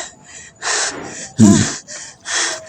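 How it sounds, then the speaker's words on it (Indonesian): Heavy, panting breaths from a woman in a forest, a series of loud close gasps and huffs in an uneven rhythm, with one sharper, voiced gasp in the middle. "Ngos-ngosan ya."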